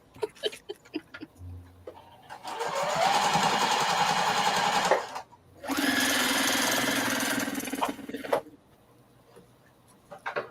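A sewing machine runs in two sustained bursts of fast stitching through fabric, close and steady, separated by a short pause, with quiet handling clicks before and after.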